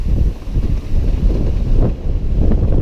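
Strong wind of about 35 knots gusting toward 40 roars steadily across the microphone aboard a sailboat running downwind under a double-reefed staysail, with a low rumble of water beneath the constant buffeting.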